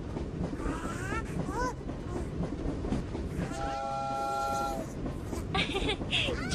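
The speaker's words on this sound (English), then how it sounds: "Choo-choo! The little train gets moving." Cartoon toy train from a Super JoJo baby-care game for kids moving along, with a bright tonal whistle blast in the middle and rolling rhythmic clatter, mixed with chirpy voice-like sounds and game music.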